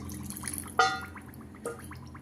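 Faint splashes and trickling of water being poured into a bowl of yogurt and semolina, two soft bursts of liquid over a quiet background.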